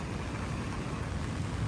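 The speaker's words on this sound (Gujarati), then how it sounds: "અત્યારે વરસાદ વધી ગયેલો છે" Heavy rain pours down on the coast beside a rough sea, a steady, dense, close hiss that never lets up.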